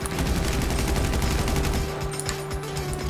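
A minigun in the GTA 5 Online video game fires a rapid, continuous stream of shots, loud and dense, with the rattle thinning into separate bursts near the end.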